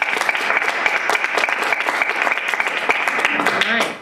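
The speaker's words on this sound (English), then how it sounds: "round of applause" Applause at a school board meeting: a room of people clapping together in a steady, moderately loud patter that holds for several seconds and then fades, with voices faintly audible underneath.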